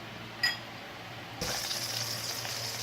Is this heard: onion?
yes